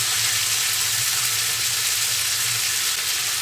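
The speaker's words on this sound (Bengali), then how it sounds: "ভালো করে মিলিয়ে দিই বরবটিটাকে" Long beans stirred into a sizzling frying pan with tomato for a sabji, a steady loud frying hiss with soft scraping of the spoon throughout, no voices.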